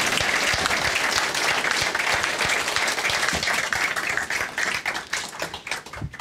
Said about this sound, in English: Can we please have a big round of applause for our panellists?